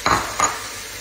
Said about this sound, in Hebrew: מערבבת.